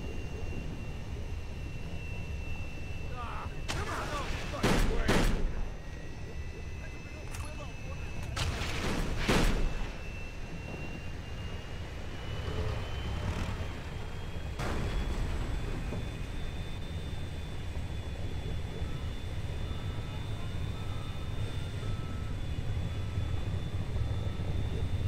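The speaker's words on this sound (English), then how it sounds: "Plane! Quick! It's starting up!" An airplane engine starts up in Kane and Lynch 2, with a rising whine under a steady drone, broken by bursts of gunfire and loud impacts, while voices shout.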